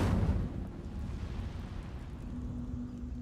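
An Incendio fire spell cast in Hogwarts Legacy, a sudden fiery whoosh and rumbling burst at the start that settles into a low sustained roar, fairly quiet overall.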